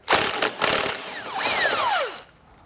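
A powered 14 mm socket spins off the bumper beam nuts on a 2018 Subaru Outback wagon, with short whirring bursts followed by a longer whine that rises and then falls in pitch.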